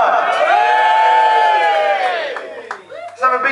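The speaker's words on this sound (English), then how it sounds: "Let's have a big cheer for Mr." At a live surf-rock concert, a crowd cheers with sustained whoops and shouts that swell, then fade into scattered calls and a few claps near the end.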